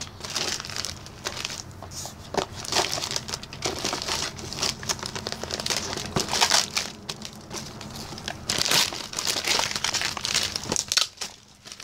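Crinkly wrapping paper on a Christmas present is crumpled and cut with scissors, a dense run of crackling rustles and snips that carries on steadily, close and fairly loud, dropping off abruptly near the end.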